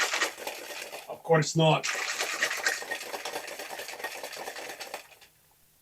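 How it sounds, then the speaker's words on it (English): A cocktail shaken hard in a shaker for the wet shake, a steady rattling churn lasting several seconds right after a brief spoken phrase, then stopping abruptly. "And now the wet shake."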